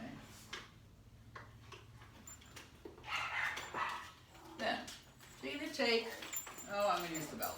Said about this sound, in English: I have a little dog joining me here.